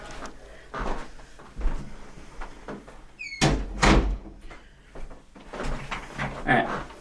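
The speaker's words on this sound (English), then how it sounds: "Let me close this door." An interior door is closed with a scrape and rattle, then one solid thump, followed by a few softer knocks and shuffling movement nearby, with no talk.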